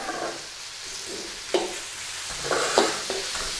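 Onions stir-frying in a hot pan with sliced beef for a Thai beef and banana pepper stir fry, a steady close sizzle broken by several sharp scrapes and clatters of the spatula.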